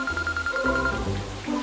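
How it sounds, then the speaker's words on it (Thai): Telephone ringing in an office, a repeating electronic ringtone pulse with a steady tone, under other sounds and a low background hum. "กรุณาไปรับโทรศัพท์ข้างนอกด้วยผมหนวกหู"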